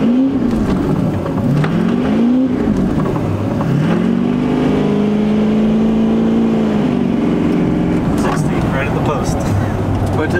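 A boosted Duramax diesel pickup truck accelerates hard from a stop, its engine note climbing and pulling through the lower gears in a loud, continuous drone, with people talking inside the cab.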